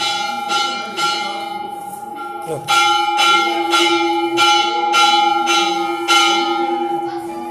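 A temple puja bell rings continuously in a fast, even rhythm, loud and close, its bright metallic tone sustained and ringing throughout.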